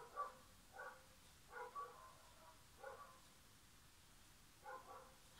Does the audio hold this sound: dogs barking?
yes